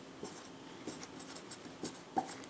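Pen or chalk writing a mathematical definition by hand during a lesson on sequences, a series of faint, scratchy strokes in irregular short bursts with a sharper tap near the end, heard close and alone.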